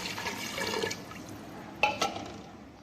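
Water poured into a cooking pot of shami kebab mixture of meat and spices, a soft liquid splash and pour with a couple of brief clatters near the end, close and fairly quiet.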